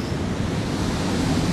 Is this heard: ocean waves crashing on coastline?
yes